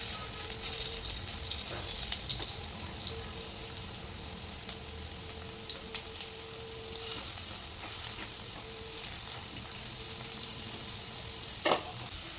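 Stuffed bitter gourds sizzle steadily in hot oil in a kadhai, a dense, continuous crackle with a few brief louder pops and no talking.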